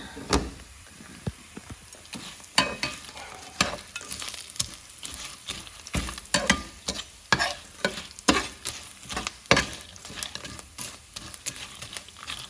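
Tortillas fry in oil on a nonstick griddle pan with steady crackling and repeated scraping, clattering stirs, moderately close and loud, with no talking.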